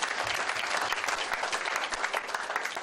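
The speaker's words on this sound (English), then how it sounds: "We give him a round of applause." A forum audience at a talk on hudud law gives a brief, loud round of applause for a legal scholar, with close, dense clapping that lasts a few seconds.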